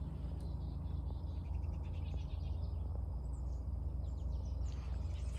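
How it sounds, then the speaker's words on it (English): Faint birdsong from several birds, including black-capped chickadees, chirps and trills in the distance at Mantua Reservoir over a low, constant outdoor rumble. "All right, we're hearing so many birds right now."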